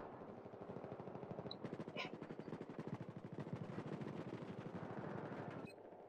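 Rapid automatic gunfire in Battlefield 4 Classic Mode, a long rhythmic stream of shots lasting several seconds at steady volume, with faint voice chat underneath.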